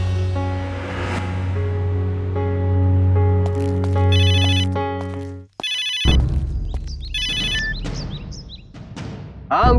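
A mobile phone ringtone plays for an incoming call in an Indian crime drama, a loud melodic electronic tune that breaks off midway and gives way to further bright chiming tones.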